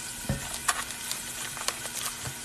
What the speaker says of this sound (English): I'm going to add my meat